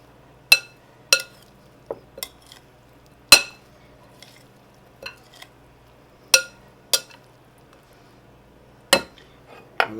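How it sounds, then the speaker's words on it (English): Eggplant being folded together with other ingredients in a pan for a vegan garlic eggplant dish: a dozen sharp, separate utensil clinks and taps against the pan, spaced irregularly and fairly close over a quiet background. "Now we're going to fold our ingredients with the eggplant."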